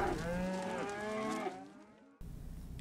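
A cow gives one long, loud, drawn-out moo that tails off, followed by a brief burst of outdoor background noise, with no talking.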